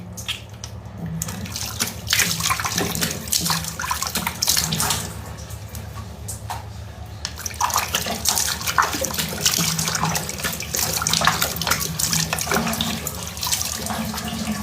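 Running water splashes and slaps as someone washes their face at a tap, continuous and close with irregular bursts of scooping and splashing, no talking.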